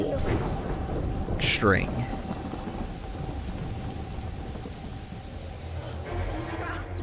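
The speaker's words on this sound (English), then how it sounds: "Whoa! Did you see that? The lightning bolt." Thunderstorm in the game A Plague Tale: Innocence: steady rain hiss throughout with a loud, crackling lightning strike and thunder crash near the start, then a distant rumble later, with brief speech.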